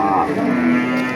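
A local-coloured cow at a cattle market gives one long, loud, close moo that fills the moment with no talk over it.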